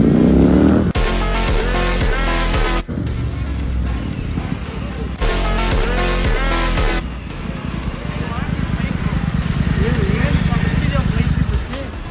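Royal Enfield GT 650 motorcycle exhaust while riding, loud and close, with throbbing revs that climb and fall, a brief dip near three seconds, then a steadier rumbling run.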